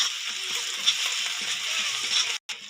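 Ginger and garlic paste being stirred into frying rohu fish curry, a steady close sizzle with faint scraping and a brief dropout near the end.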